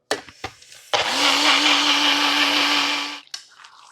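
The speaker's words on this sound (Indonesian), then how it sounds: "Oke, blender sedikit lagi." A kitchen blender whirs while chili-spiced liquid for a chicken noodle and meatball dish is blended, opening with a few clicks and knocks before a loud, steady motor whine runs for about two seconds and then stops.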